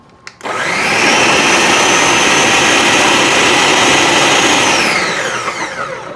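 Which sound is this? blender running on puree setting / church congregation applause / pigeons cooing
blender running on puree setting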